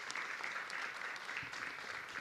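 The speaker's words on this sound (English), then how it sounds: "Let's give the National Guard a round of applause and FEMA a round of applause." Crowd applause for the National Guard and FEMA at a mass vaccination site opening, a steady, dense wash of clapping filling the whole short stretch without voices.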